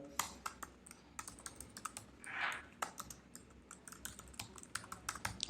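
Rapid clicking of keys on a computer keyboard as an email address and password are entered, quick irregular taps up close with one softer smeared noise partway through and no voices.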